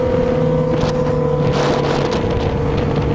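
Yamaha XJ6 and Honda CBR650F motorcycles give off a steady, close engine drone with a constant low hum, heavily buffeted by loud wind noise throughout.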